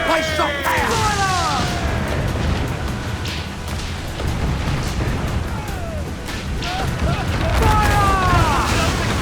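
Cannon fire from sailing warships in Assassin's Creed IV Black Flag, a steady dense roar of booms and crashes through a naval battle, loud throughout with shouted voices and whistling streaks cutting in near the start and end.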